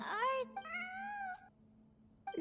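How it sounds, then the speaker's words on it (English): A cat in Genshin Impact's Sumeru area meows twice in clear, fairly close drawn-out calls, followed by the start of a third meow. "I'm not hearing things. It really is a cat."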